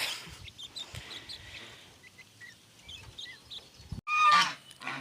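Several honks from a goose come from a short distance away on a farm in extreme heat, over a busy background of twittering birds. A louder burst of honking comes near the end.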